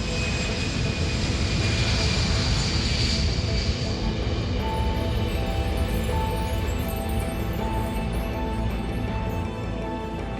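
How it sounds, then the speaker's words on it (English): A Boeing 747 at takeoff roars with a loud, steady blend of jet engine rumble and high whine, holding close and constant throughout with no speech. "The engines were all running."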